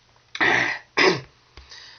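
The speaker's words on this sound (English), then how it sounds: "I'm about to be coughing all through this video" A man clears his throat and coughs three times during a spoken commentary: two strong, raspy bursts close together, then a shorter, softer one after a brief gap, all close to the microphone.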